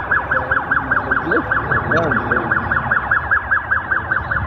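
A wailing siren cycles rapidly up and down in a steady repeating pattern, loud and continuous, with faint voices underneath.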